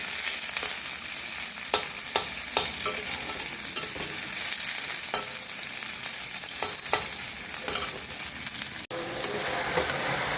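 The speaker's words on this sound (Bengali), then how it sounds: "আমি আলাদা করে এইদিকে পেঁয়াজটা ভেজে তারপর চিকেনের মধ্যে দিই" Sliced onions fry in a pan of oil, set aside from the chicken for a Bengali lunch, giving a steady close sizzle with occasional stirring scrapes and clicks of a spoon against the pan.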